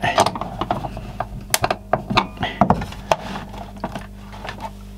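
Small screw being driven into the plastic case of a 1981 Pioneer SK200 boombox, heard as irregular close clicks, ratcheting scrapes and taps from a screwdriver working against the cabinet.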